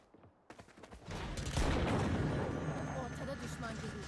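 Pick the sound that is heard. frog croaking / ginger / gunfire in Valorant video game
gunfire in Valorant video game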